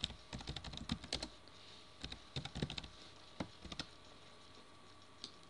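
Quick clattering keystrokes on a computer keyboard come in short irregular bursts, close and fairly quiet, with brief pauses between runs.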